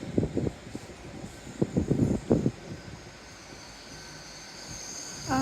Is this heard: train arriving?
yes